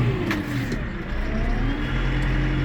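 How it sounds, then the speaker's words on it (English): A Deutz-Fahr 5120C tractor, a Deutz model just above 100 horsepower, pulls away once the brake is released, its engine note rising in a steady, fairly loud drone with no talking. "When we want to take off again, we don't touch anything else, just let the brake go and off we go."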